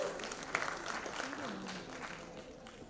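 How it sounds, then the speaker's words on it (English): Another round of fairly faint applause from an audience after a performance at a cultural show, with voices and a faint tone mixed in. "Let's give him another round of applause."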